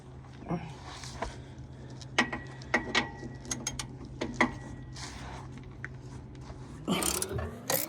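Ratchet wrench loosening bolts on a Chevrolet Tahoe in short clicking bursts, with metallic taps and clanks over a low steady hum, ending in a louder scraping rattle.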